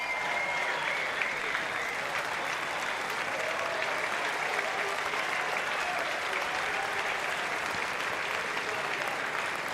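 Big crowd applauding steadily at a tennis match at the Domain Tennis Centre, Hobart International, a dense, even wash of clapping held at constant loudness throughout without a break.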